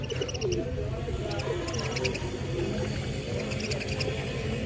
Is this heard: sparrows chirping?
yes